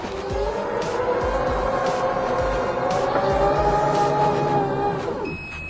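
A Toyota C-HR power tailgate, worked from a switch on the front console, gives a steady whirring motor drone that holds evenly for about five seconds, joined by light clicks, then stops with a soft thud.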